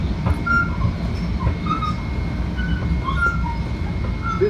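A commuter train stands at or rolls through Scarsdale station with a loud, steady rumble, and faint squeals and chirps rise above it throughout.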